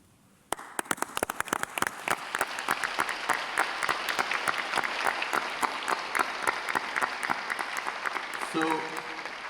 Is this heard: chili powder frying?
no